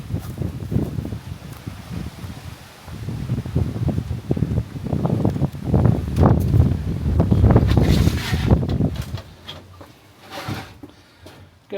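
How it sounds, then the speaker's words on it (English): Wind gusting outdoors at an allotment near the greenhouses, a broad rushing and rustling that swells to a loud buffeting peak midway and then eases, close to the microphone with no speech. "Getting a bit windy out there anyway."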